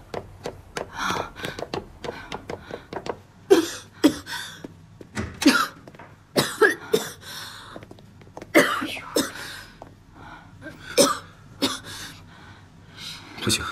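A sick girl with a fever coughs repeatedly in bursts over a long stretch, with throat-clearing and gasps between the coughs, fairly close and moderately loud.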